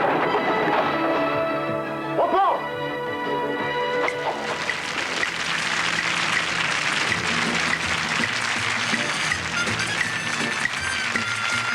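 A studio audience at a 1991 French television variety show applauds in a dense, steady wash. Music with a sung or sustained note plays over the first few seconds, then the clapping carries on alone, loud and even.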